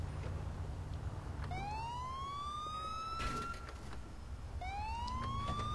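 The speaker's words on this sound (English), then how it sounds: "Turn sirens off, it's easier for them to find you." Police car sirens wail in GTA IV, two rising electronic sweeps climbing one after another over steady engine and traffic rumble from the game, loud and close.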